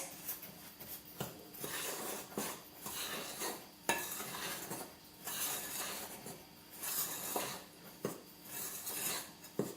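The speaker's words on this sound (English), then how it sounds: "Mix those all together so they're incorporated." A utensil stirs dry banana caramel cake ingredients, including sugar and baking powder, in a bowl. The scraping and clinking come close and in uneven, rhythmic strokes with brief pauses.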